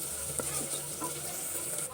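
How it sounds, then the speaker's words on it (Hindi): Onion sizzles and fries in a clay pot: a steady, soft crackling hiss with occasional stirring scrapes, alone and fairly quiet. "जब तक हमारा प्याज ब्राउन हो रहा है"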